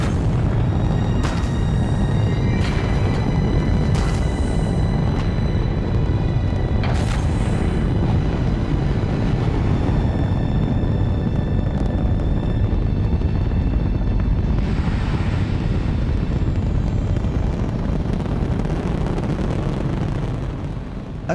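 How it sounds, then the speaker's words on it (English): The Saturn V rocket carrying Apollo 11 lifts off on the July 1969 crewed lunar landing mission, a loud, continuous thunderous roar with heavy rumble and wind buffeting that holds steady throughout. "This incredible NASA footage shows a launch of Apollo 11 on the first manned lunar landing"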